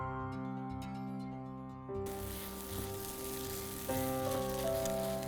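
Two fresh eggs hit a pan beside Japanese-style garlic fried rice, and a soft background sizzle jumps to a broader, louder frying hiss partway through, near and steady with no voices.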